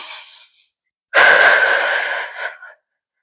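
One breathy exhale trails off, then after a pause a long, loud airy breath follows up close during a somatic relaxation exercise, ending in silence.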